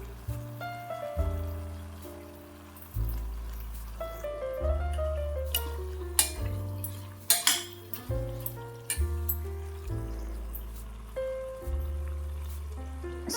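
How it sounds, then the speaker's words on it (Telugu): Tomato pickle mixture being stirred with a spoon in a pot, heard as repeated metallic clinks and scrapes against the vessel, with irregular sharp taps under a background of tonal music, without any talking. "టమాటో మిశ్రమాన్ని బాగా కలుపుకోవాలి"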